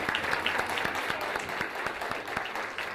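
Audience clapping at a library-hosted spelling bee, a steady dense round of applause from a crowd that holds even and continuous throughout, easing slightly at the close.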